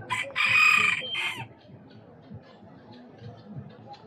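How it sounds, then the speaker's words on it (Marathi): Brahma chickens on a farm visit: a loud rooster crow rings out near the start, followed by softer clucking and scattered fowl calls in the background. "शुभ्रा, कोंबडे बघ किती मोठे आहेत"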